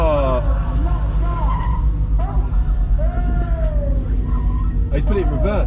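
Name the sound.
car at hypercar event accidentally put in reverse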